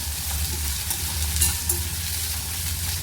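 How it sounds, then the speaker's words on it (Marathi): Chopped onion frying in hot oil with crackled mustard seeds and cumin in a pan for Konkani-style pitla, a steady, close sizzle throughout with a low hum beneath. "राई जिरं तडकडलं कांदा टाकूया कांदा लाल होईपर्यंत भाजून घ्यायचं"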